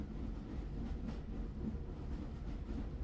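A train rolls along the rails, a steady low rumble with faint rhythmic clatter of wagons, continuous and fairly close, with no voices.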